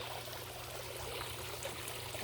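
Water moves steadily through the filtration system of a swimming pool converted into a fish pond, producing a faint, even rushing and trickling that continues unbroken with no voices.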